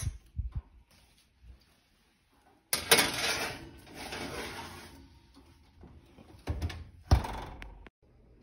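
Cookie tray slid into a home oven, a few clunks and a metallic rattle with an oven door thud, close and separated by quiet gaps, no talk.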